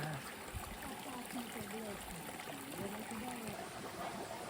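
Shallow river water running steadily in rural Jamaica, a constant close rushing wash with voices talking over it throughout.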